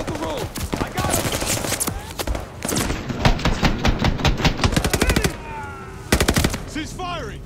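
Rapid bursts of automatic gunfire rattle loudly in a Call of Duty: Vanguard campaign battle, dense rhythmic volleys through most of the stretch with a short pause before a final burst, shouted voices mixed in.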